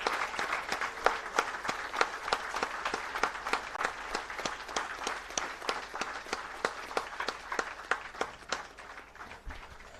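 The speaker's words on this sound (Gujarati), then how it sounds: "હજુ થોડો અવાજ તાળીઓનો ઓછો લાગે છે." An audience at a donors' award ceremony keeps applauding, with steady clapping and sharp separate claps at a moderate level, while a few people talk faintly underneath.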